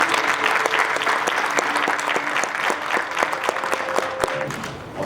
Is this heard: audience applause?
yes